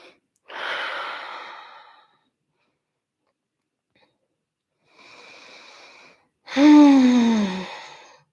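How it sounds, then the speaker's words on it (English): Deep breaths during a hip extension and flexion workout: a long inhale, a pause, then a softer breath and a final heavy, voiced exhale, close and clear with no talk. "We're going to take 2 breaths."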